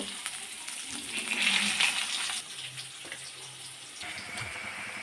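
Potatoes frying in hot oil in a home kitchen, a steady crackling sizzle with a brief louder hiss early on and light stirring and scraping sounds.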